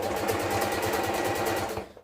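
Close, steady rapid stitching from a sewing machine sewing a half-inch side seam, a continuous rhythmic whir that winds down at the end.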